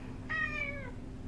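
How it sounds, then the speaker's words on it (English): A single cat meows once, clear and fairly close, a short tonal call of under a second that rises and then trails off, heard over a quiet low background hum. "there's a cat, like, right behind me"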